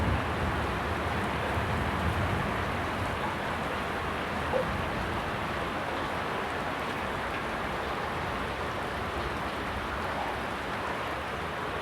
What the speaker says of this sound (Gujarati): છાંટા પડે છે મિત્રો.